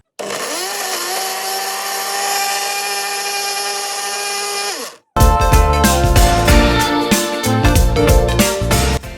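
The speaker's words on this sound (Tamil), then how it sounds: "கட் பண்ண எட்ஜஸை நம்ம ஒரு மிக்சர் ஜாரில் கிரைண்ட் பண்ணி எடுத்துக்கலாம்." A mixer grinder jar grinds cut bread crust edges in a steady, loud motor whine lasting about five seconds that then cuts off, followed by music.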